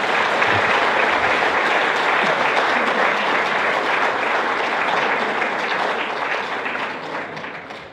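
A church congregation breaks into sustained applause, a dense, steady wash of many hands clapping together at full strength before it tapers off slightly near the end, with no speech rising above it.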